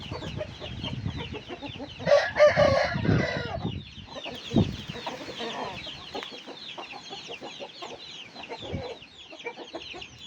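Roosters crow loudly outdoors, with one long crow standing out near the start, while chickens cluck and chatter continuously in the background on a windy day.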